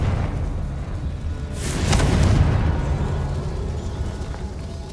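A Confringo explosive spell from Hogwarts Legacy goes off in a single rolling boom that swells midway through and slowly fades over a low background rumble.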